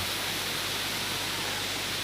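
Waterfall at the Sungai Mudal eco-tourism site in Kulon Progo, a steady broadband rush of falling water that is loud and unbroken for the whole moment.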